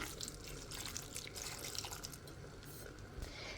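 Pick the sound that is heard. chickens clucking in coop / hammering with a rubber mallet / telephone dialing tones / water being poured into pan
water being poured into pan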